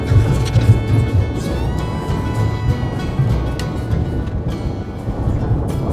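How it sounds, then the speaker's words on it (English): A kei truck used as a mower drives over a steep little hill along dirt trails, giving a steady low engine rumble with wind buffeting the microphone. "I'm taking my mower over that,"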